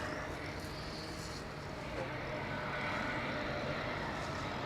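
KLM Embraer 190 regional jet arriving at Schiphol from London City, a steady, moderate engine roar that stays even and builds slightly toward the end, with no voices.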